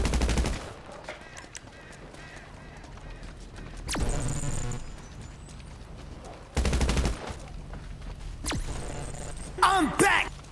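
GTA V gunfire rings out in several loud, sharp bursts spaced a few seconds apart, separated by quieter stretches of game ambience and clopping hooves.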